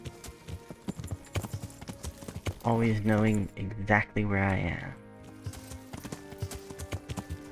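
Hooves of a unicorn horse clip-clop in a medieval adventure video game, a steady run of sharp hoof strikes that pauses briefly while someone talks over it, then resumes.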